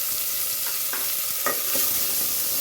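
Onions sizzle and fry in a pan for village-style chicken sambar while being stirred, with a steady hiss and a few distinct scraping strokes.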